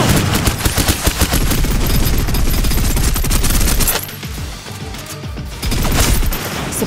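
Loud, rapid automatic gunfire laying down suppressive fire in the shooter game Snowbreak Containment Zone, a dense sustained burst that briefly drops off, then resumes.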